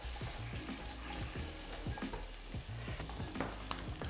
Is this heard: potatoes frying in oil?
yes